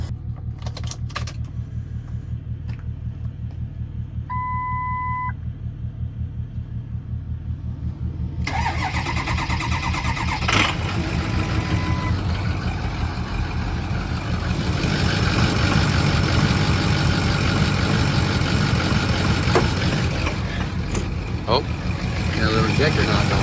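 An old truck's engine cranks and fires up, then runs at a rough, uneven idle with a suspected dead injector, a loud, steady, gritty rumble that builds and continues throughout, with scattered clicks over the top.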